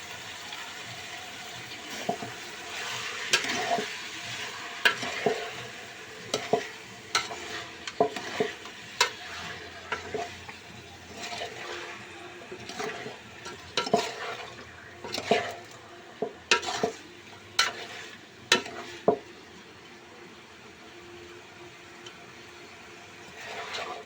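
Chicken curry is stirred in a pan, with repeated spoon scrapes and clinks over a soft steady sizzle, close by and moderately loud, arriving in an irregular rhythm.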